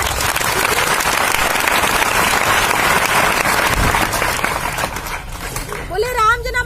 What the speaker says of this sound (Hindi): उनके लिए ताली तो बनता है।